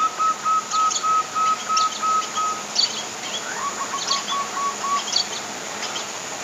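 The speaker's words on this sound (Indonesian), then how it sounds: "Burung perkututnya bunyi guys, padahal lagi aku rekam ya." Soft zebra dove coos repeat in a steady pattern against a background of outdoor birdsong and insect hum in an aviary, moderately distant.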